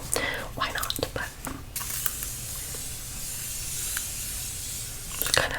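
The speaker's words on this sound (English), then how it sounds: "just kind of spray it all over, let it soak into the skin" Skincare mist sprayed over the face, a few soft hissing bursts early on, then a long steady breathy hiss, with another short spray near the end, close and gentle.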